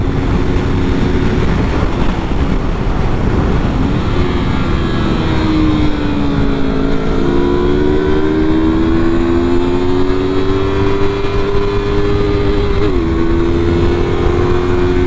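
Yamaha R3 motorcycle engine held at full throttle in fifth gear during a race, a loud, steady, close-up engine drone with a high rising and wavering pitch that dips briefly and climbs again, surrounded by wind roar throughout.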